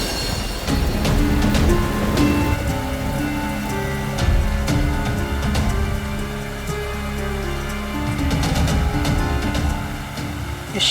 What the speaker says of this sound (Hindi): इस शिरडी में अचानक ऐसी बारिश?